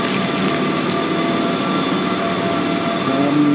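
Steady, loud rumbling of a French TER regional train with a continuous mechanical hum and faint tonal whine throughout, no voices.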